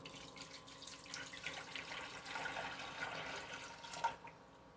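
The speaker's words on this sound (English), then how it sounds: "Now I'll pour 2 cups." Hot water poured from an electric hot pot into an Instant Pot, a steady gurgling liquid stream running for several seconds with a small splash near the end, close and fairly quiet.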